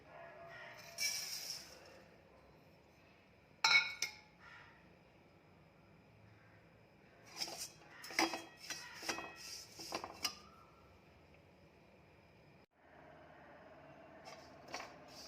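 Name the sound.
oats being dry-roasted in a pan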